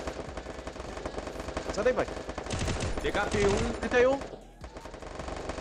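Rapid bursts of gunfire in the video game Free Fire crackle continuously beneath excited shouting, with a short pause near the end before the shooting resumes.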